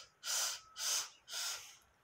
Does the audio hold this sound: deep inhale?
yes